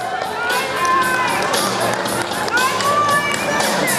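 Children scramble through a dressing race at a Stingrays swim club event, Eric Williams against Waverley in 2012, with a steady crowd cheering and shouting for the full stretch and near voices mixed in.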